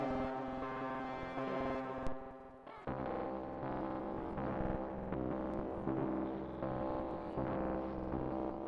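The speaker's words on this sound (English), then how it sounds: "One of the only sounds on this song is this sonar scanner glitchy kind of thing" A glitchy, sonar-scanner-like synth sound from a hyperpop/glitchcore rap song, layered with octave-up and octave-down versions, drones in dense sustained tones that shift abruptly partway through and keep pulsing without any voice.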